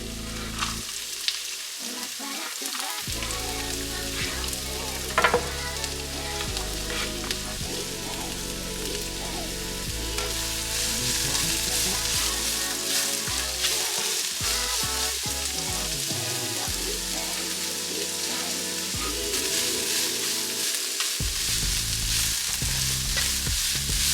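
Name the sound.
Jamaican pepper shrimp frying with seasoning in pan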